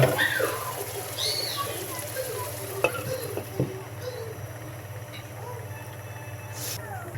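Prawns with coconut and onion tossed in a pan, a low continuous frying hiss with scraping and stirring clatter and a couple of sharper knocks, close and moderately quiet.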